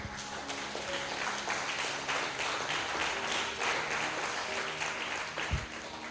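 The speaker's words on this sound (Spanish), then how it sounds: "Dale el aplauso al Señor." A church congregation applauding during a sermon: dense, continuous clapping from many people fills the room, with a faint tonal hum underneath and a brief low thump near the end.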